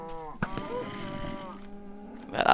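A cow in the video game Minecraft moos in a long, drawn-out bellow with rich harmonics, close and fairly loud, followed by a brief rising squeal near the end.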